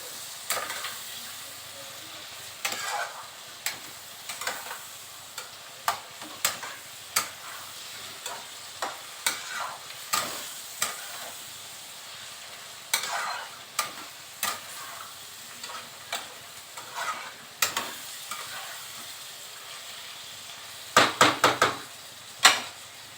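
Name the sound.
okra being sautéed and stirred in a frying pan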